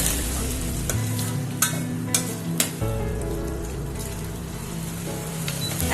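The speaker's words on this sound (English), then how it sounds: "I'll let this simmer for some time." Mango and boiled egg gravy with onion bubbling in a pan, a soft continuous sizzle with a few sharp clicks and scrapes of a utensil early on, close and moderately quiet.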